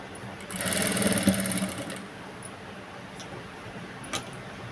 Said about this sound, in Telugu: చూసారు కదా, హెడ్జ్కి వేస్తున్నాను కుట్టు అనేది